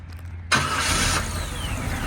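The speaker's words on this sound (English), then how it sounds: "She starts easy and runs good." A 1962 Corvette hardtop roadster restomod with a modern 350 V8 cranks and fires up suddenly after a quiet moment, then settles into a loud, steady idle close by.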